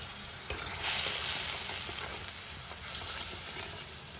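Spices with cumin, coriander, turmeric and salt frying in a pan with a little water, a steady close sizzle with occasional stirring scrapes, fairly quiet.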